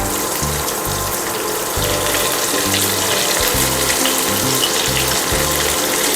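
Chopped onions sizzling in hot oil while cooking Bengali tok dal, a steady bright hiss filling the whole stretch with low rhythmic thumps beneath it.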